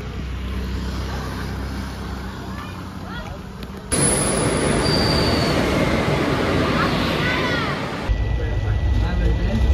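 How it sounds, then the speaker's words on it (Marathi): A Koyna Express passenger train heard from inside the coach: a loud, continuous rumble of wheels on track with rattling carriage noise and occasional faint squeals. The sound shifts abruptly twice as the setting changes. "मित्रांनो आता आम्हाला ट्रेनमध्ये बसून अर्धा 1 तास जास्त झाला असेल"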